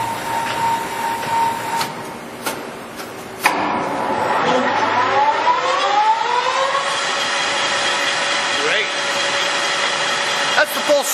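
A LeBlond 19 x 54 inch heavy-duty lathe spins up to 1600 RPM, its whine rising steadily in pitch before settling into a loud, even mechanical hum with a few clanks.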